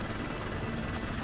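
A helicopter in the video game Bullet Witch, caught in a tornado level, gives a loud, steady rotor and engine roar that fills the whole moment without any talk.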